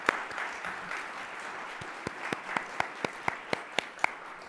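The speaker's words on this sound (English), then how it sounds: "Let's give them all a round of applause." Audience at a Columbus Metropolitan Club panel applauds the panelists, a soft crowd clapping in the background with one person's sharp, evenly spaced claps standing out near the microphone.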